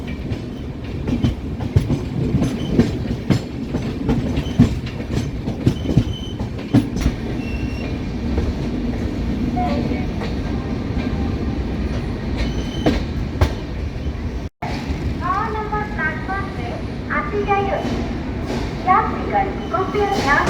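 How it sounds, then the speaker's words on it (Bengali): The Shalimar–Puri Superfast Express rumbles steadily at Khurda Road in the foggy dawn, wheels clattering, then brakes squeal in high whines as it slows; a voice talks over the train. "কুয়াশাচ্ছন্ন ভোররাত্রির শেষে ট্রেন এসে পৌঁছালো পুরীর উদ্দেশ্যে যাওয়ার মাঝে খুর্দা রোড স্টেশনে"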